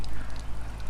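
Water runs from an opened tap in a brief, continuous rushing splash, close and fairly loud.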